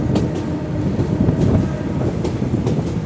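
A crowded passenger train runs during the Eid holiday journey. Its heavy, loud low rumble is steady, and faint rhythmic clicks of wheels over rail joints come through with no talk.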